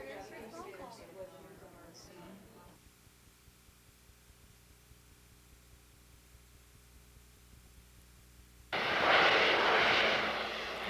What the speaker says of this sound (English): Jets and planes make a lot of noise over a large area.